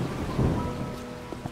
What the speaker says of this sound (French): Sous la pluie.